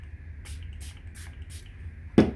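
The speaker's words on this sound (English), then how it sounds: "I'm gonna spray this with water." A spray bottle gives four evenly spaced short hissing spritzes of water onto a watercolor painting over a low background hum, followed by a louder bump at the end.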